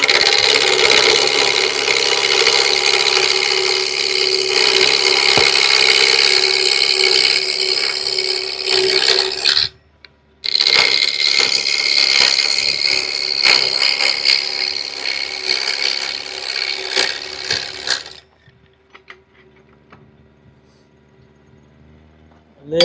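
A wood lathe roughing down a spinning workpiece at about 1100 RPM makes a loud, continuous rasping scrape close by. It breaks off briefly near the middle, resumes, then stops, leaving only faint room noise.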